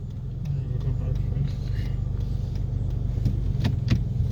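A car pulls out of a parking spot onto the road during a driving test, its engine humming steadily and rising slightly as it moves off, heard from inside the cabin with a few soft clicks.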